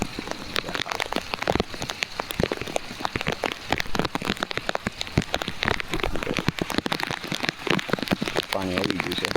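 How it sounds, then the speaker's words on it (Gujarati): Steady rain falling outdoors at a farm, a dense continuous patter of drops striking surfaces close by, with occasional faint voices underneath. "વરસાદ ચાલુ છે"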